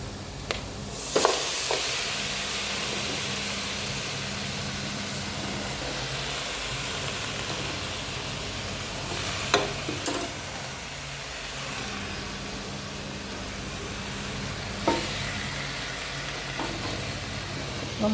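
Chicken pieces fry in a pan of oil with green masala of garlic, ginger, green chillies and curry leaves, giving a steady broad sizzle with a few sharp clanks of stirring.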